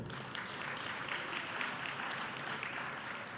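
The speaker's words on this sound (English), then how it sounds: "Round of applause, please." Audience at the Good Citizen Day awards banquet applauds, a faint continuous patter of many hands heard from a distance at low level, with no voices.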